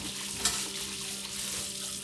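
Tap water runs steadily into a sink while chicken is washed during home cooking, a continuous close hiss with a faint clink partway through and no speech.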